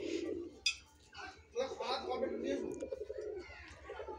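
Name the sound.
pigeons cooing in a home pigeon loft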